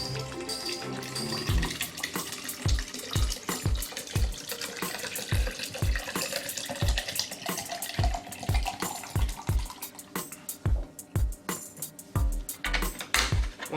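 Preservation liquid is poured into the tube of an Unger HiFlo RO30GC reverse-osmosis water filter system, a continuous splashing stream with regular low glugging pulses and small knocks.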